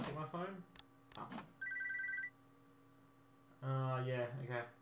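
A phone rings in the Tony Hawk's American Wasteland video game, a short electronic trilling ring between bursts of character dialogue, with louder talk following.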